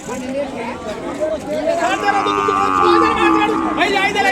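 A dairy-breed calf lows at a weekly cattle market, one drawn-out moo rising over nearby people talking and general crowd chatter.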